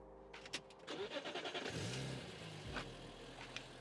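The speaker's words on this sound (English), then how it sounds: "let's start the car up" A cheap BMW Z4 M with a suspected fault turns over briefly, fires up with a loud rising rev, then drops to a steady idle. It sounds close by, and there is no talking.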